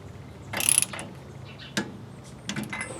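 A ratchet wrench clicks while retightening the front spindle nut on a 1967 car after a front disc brake conversion, in a few short bursts of mechanical clicking at close range with quiet gaps between them.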